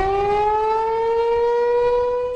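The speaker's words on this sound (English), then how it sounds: "Sirens blaring." A steady civil defense siren in central Illinois wails continuously, loud and sustained with a slowly rising tone and no other sounds.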